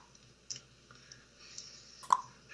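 A voice imitates the echolocation clicking of a monster, producing a few sparse, quiet mouth clicks followed by one sharper, louder click near the end, close up with no talking.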